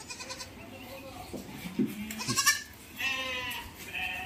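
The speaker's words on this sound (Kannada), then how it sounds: "ನಾನು ಫಸ್ಟ್ ಟೈಮ್ ನೋಡ್ತಿರೋದು ಮೇಕೆ ಮರಿಗಳನ್ನೆಲ್ಲ" Young goat kids bleat in short, wavering cries, several calls in quick succession nearby, with people talking softly in the background.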